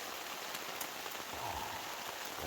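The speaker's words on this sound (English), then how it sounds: "rain is on, but nice and dry, stove on" Rain pouring steadily on the fabric of a hot tent (Pomoly Dome X4) during a wild camping trip in Scotland, a dense, even patter heard from inside, close and continuous with no talking.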